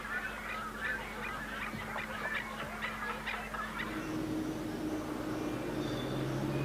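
Birds crowd the shrimp farm ponds in Honduras, a run of repeated nasal honking calls in the first half over a low steady mechanical hum, the calls thinning out as the background drone continues.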